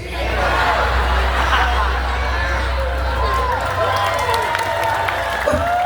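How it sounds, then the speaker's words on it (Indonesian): An audience claps and cheers during a humorous Islamic sermon, a dense, sustained wash of applause with crowd voices and someone speaking over it throughout. "Tepuk tangan."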